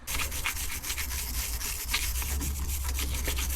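Scrubbing and rubbing around the differential drain plug of a 1952 Chevy produces a continuous close rasping scrape over a steady low background hum.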